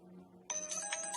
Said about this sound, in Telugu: అరే మాణిక్యం పంపు సెట్ నుంచి ఫోన్ చేస్తాడు.